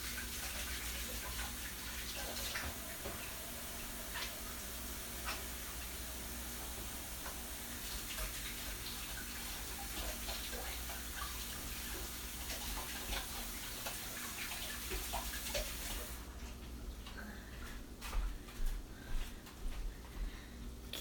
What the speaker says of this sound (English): Bring this over here and rub water in it and wash my hands off.